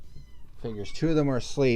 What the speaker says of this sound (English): If you hear that meowing, that's the little ones.